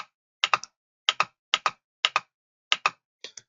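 Computer keyboard keys pressed and clicked in quick pairs and triplets, six short bursts of crisp, close plastic taps with silence between, no talk.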